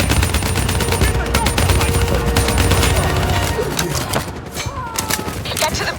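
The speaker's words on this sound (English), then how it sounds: "Give me some cover fire." Loud, rapid automatic gunfire from Call of Duty Black Ops 3 rattles on continuously, a dense mix of bursts and single shots with battle noise behind it.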